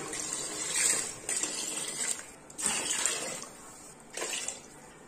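Water pours into a pressure cooker for chicken biryani in three separate bursts with short pauses between, a close, splashing gush each time, with no talking.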